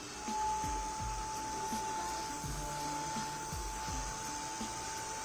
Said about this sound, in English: Now here I'm using my heat gun